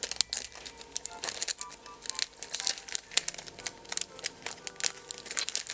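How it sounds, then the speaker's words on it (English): A plastic bag holding parts for a eurorack synthesizer module kit being wrestled and torn open, close up, with dense irregular crinkling and crackling throughout and sharp bursts as the plastic gives, no talk. "I am so incompetent at opening bags."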